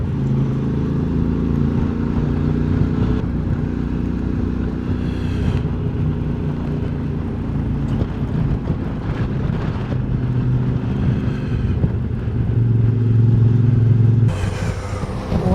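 A motorcycle with heated seat and heated grips rides a cold mountain road through the Gorges de la Jonte, its engine rumbling steadily and loud throughout, with wind noise and slight changes in engine tone.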